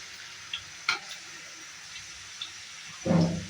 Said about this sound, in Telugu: శనగపిండి ఎంత ఫ్రై అయితే ఎంత బాగుంటుందండి